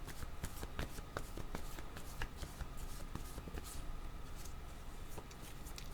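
Tarot cards are drawn and shuffled by hand, a quiet steady run of papery flicks and riffles with sharp card snaps scattered throughout.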